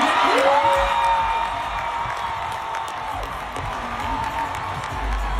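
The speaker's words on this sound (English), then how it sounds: "And the crowd exploded." A large audience at the Grammy Awards ceremony cheers and shouts as a winner is announced, a dense sustained roar of voices with whoops, steady throughout and loud.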